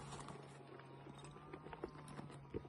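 A horse's hooves shift and clop softly while it is being saddled, scattered light knocks over a steady low hum, quiet and close.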